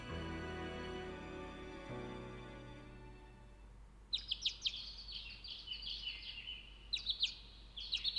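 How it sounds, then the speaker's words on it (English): Birds chirp in a video game's morning scene, a run of bright, clustered tweets entering halfway through after a fading low musical drone, moderately loud and close. "I awoke to the sounds of birds chirping."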